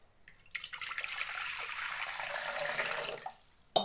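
Water streams steadily into a cooking pot holding washed ganike greens and lentils for a soppu dish, a close, continuous pour of about three seconds that stops with a short splash and clink, no talk.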